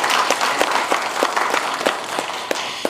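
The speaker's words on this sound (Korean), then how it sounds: "또 박수를 한번 보내주시면 좋겠습니다" Audience at a forum on the Busan Choryang underpass disaster giving a round of applause, with loud, close, continuous clapping that holds steady across the whole moment.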